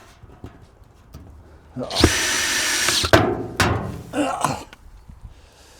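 A power drill drives screws into wood while building a greenhouse at an allotment, with a loud whirring burst of about a second, a second shorter burst and a brief third, and people chatting faintly around it.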